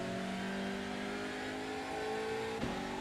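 Hyundai Elantra TCR race car engine in iRacing pulling hard under acceleration, a steady loud whine rising in pitch through the gears, with a brief thump near the end.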